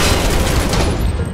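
Barret fires his gun arm in Final Fantasy VII Remake, a loud dense burst of rapid gunfire and booms filling the brief moment.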